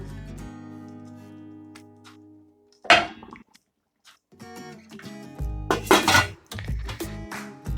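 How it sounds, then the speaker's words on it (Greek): A glass jar of green tomato salsa clinks against a metal pot as it is lowered into boiling water, with a few sharp glassy knocks, scraping and a low bubbling hum, close by and with no talk. "Αυτό τώρα το βάζουμε στο βραστό νερό."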